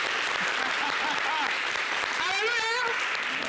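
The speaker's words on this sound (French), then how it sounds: "est-ce qu'on peut s'applaudir?" Church congregation applauding at an evening gathering, dense clapping running throughout while a voice speaks and sings over it, with a rising sung phrase toward the end.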